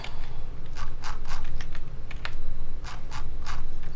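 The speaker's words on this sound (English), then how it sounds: "sorry about the keyboard and mouse noise" Rapid computer keyboard clicks and mouse clicks come in quick irregular bursts, close and fairly loud, over a steady low hum.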